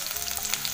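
Chopped onion and curry leaves fry in hot oil for a tempering, making a steady, close, bright sizzle with no pauses.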